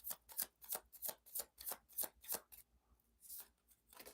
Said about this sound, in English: Let's pull your next card, please.